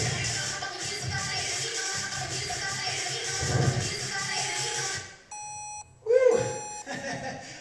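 A loud steady noise with murmuring gives way to electronic beeps from a Tabata workout interval timer: a sustained tone, then a short sharp beep burst, clear and close.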